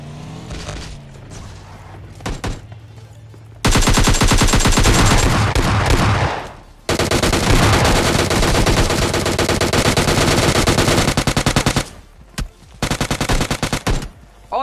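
Automatic and single gunfire in a shooter video game, with long loud bursts of rapid shots, short pauses and several guns firing at once, ending in choppy broken volleys.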